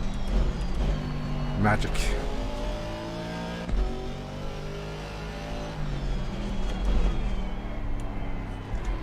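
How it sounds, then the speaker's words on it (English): BMW M6 GT4 race car engine in a racing simulation at Zandvoort, stepping through rising and falling gear changes with a spooling turbo whine and brief pops. It stays loud and steady as someone talks over it throughout. "I really like the Beamer M6 sounds, really. The downshift there on the turbo spool."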